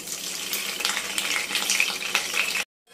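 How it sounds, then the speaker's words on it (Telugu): Green chillies sizzle and crackle in hot oil in a pan, a bright, steady frying hiss with small pops, close and alone, cutting off abruptly at the end. "స్టవ్ అనేది ఆన్ చేసుకొని కొంచెం ఆయిల్ అనేది పోసుకోవాలి. పచ్చిమిరకాయలు అయితే వేసుకుంటున్నాము."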